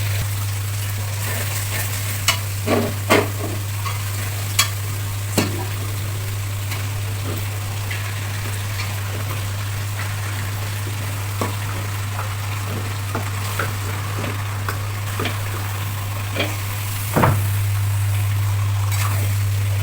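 Beef pieces stirred and fried in an oily cooked spice paste, a steady close sizzle with repeated scraping strokes of a spoon against the pan, no talking.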